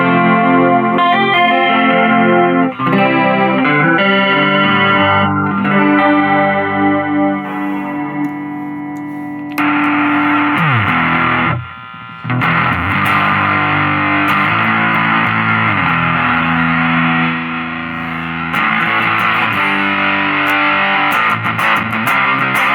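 A small 5-watt solid-state guitar amp plays loud, gain-heavy distorted electric guitar: chords and riffs with a brief pause midway, then thick sustained distortion up close.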